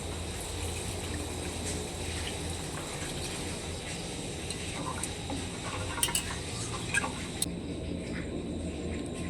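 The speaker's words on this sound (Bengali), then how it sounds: "আবারও একটু জল দিয়ে দিচ্ছি" Water poured into a cooking pot of chili chicken makes a continuous, even gushing wash, fairly soft and unbroken, with a few faint clinks near the end.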